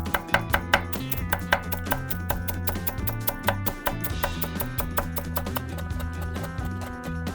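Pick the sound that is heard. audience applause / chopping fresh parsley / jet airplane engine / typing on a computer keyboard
chopping fresh parsley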